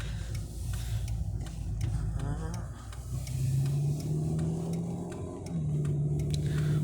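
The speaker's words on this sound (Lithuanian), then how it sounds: "Mašinų šiandien žiauriai daug irgi." Cars drive past on a road in a continuous wash of traffic noise, with engines rising and falling as vehicles approach and recede, close and fairly loud throughout.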